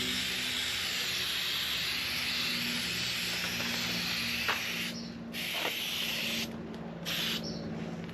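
A continuous close hiss of an aerosol spray paint can coating a wooden pallet project, sustained for several seconds and broken by a few short pauses between bursts toward the end.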